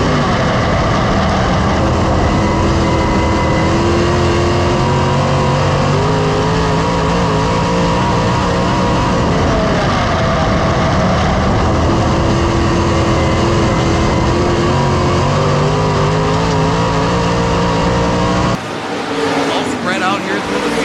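Race cars roar around an oval track in a loud, sustained engine drone with layered revving and passing cars, the tone shifting briefly near the end, while an announcer talks over the field.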